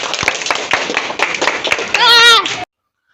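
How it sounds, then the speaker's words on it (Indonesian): Children clap hands together in a brief, lively burst, the claps crisp and irregular amid young voices, ending with a short shout or cheer before cutting off to silence. "Oke, tepuk tangan"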